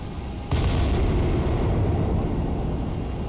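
An SM-2 missile intercept explosion in the naval warfare game Cold Waters: a sudden loud blast hits after a quiet half-second, then settles into a broad, sustained rumbling roar that slowly fades.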